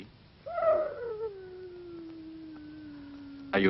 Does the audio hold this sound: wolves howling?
yes